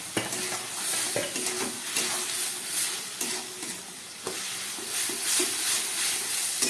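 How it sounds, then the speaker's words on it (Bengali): Ground spice paste thinned with water sizzles loudly in a hot pan while being stirred, a dense hiss broken by repeated scraping strokes and occasional clinks, close up with no voices. "মিক্সিটা ধুয়ে জলটা দিয়ে দিচ্ছি, মশলার জল।"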